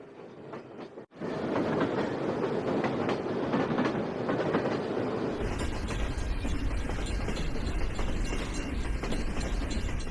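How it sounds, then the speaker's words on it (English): Runaway freight train rolling downhill toward Lac Megantic, a loud continuous rumble with rattling clatter that steadies and deepens after a brief dropout, carrying on without voices. "The train then began to roll downhill toward Lac Megantic"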